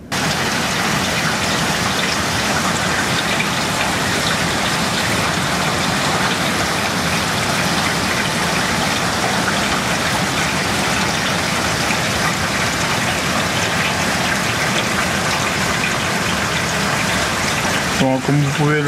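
Heavy rain pours during Cyclone Batsirai on La Réunion, a dense, continuous roar of water hitting surfaces, loud and unbroken, with a faint engine rumble underneath.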